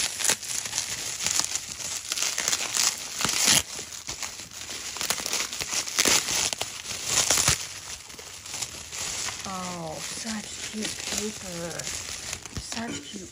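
Gift-wrap paper crinkles and rustles steadily as a birthday package is opened by hand, close and fairly loud throughout, with a voice briefly speaking over the later part.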